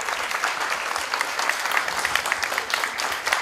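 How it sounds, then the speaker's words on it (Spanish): An audience gives steady, dense applause for a touring Colombian theatre group after their play in Villa El Salvador. The clapping is a continuous broadband patter with no speech over it. "Quiero pedir otro fuerte aplauso para ellos."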